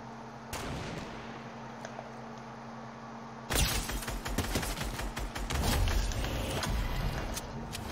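Gunfire in a video game, likely Fortnite, comes as a burst of sharp, loud shots and rapid reports over a steady in-game background hum, growing busier and louder partway through.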